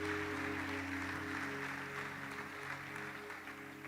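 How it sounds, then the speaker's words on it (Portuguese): A church congregation claps together in sustained applause during a Sunday morning service, a steady dense wash of hands that fades slightly toward the end, with low background hum and no one speaking over it. "Pode aplaudir o Senhor mais uma vez"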